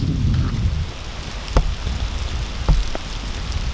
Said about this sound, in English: Right now it's currently freezing rain, sleet, and it's about 25 degrees Fahrenheit.